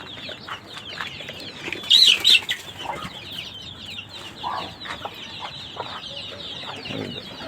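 Hens cluck and chicks peep softly while feeding, with a brief burst of wing flapping and scattered pecking sounds; no talking.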